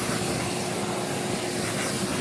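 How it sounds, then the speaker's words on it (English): Vacuum cleaner running steadily while cleaning a suede shoe, a dense, continuous broadband whine and rush held at a constant level throughout, close and loud with no pauses. "This is vacuum cleaner at work."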